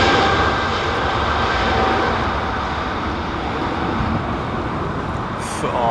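Airliner departing London Heathrow, a loud, broadband jet engine roar close by, steady and sustained throughout with a faint high whine near the end.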